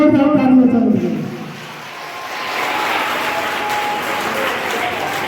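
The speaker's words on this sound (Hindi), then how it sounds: "ऊपर जोरदार तालियां चल रही है," Loud applause rises from a crowd at a school summer camp celebration, a steady broadband clatter of clapping that follows a brief voice at the start.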